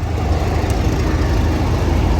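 Class 31 diesel locomotive idling at Levisham station on the North Yorkshire Moors Railway, a steady low engine rumble held close and constant throughout.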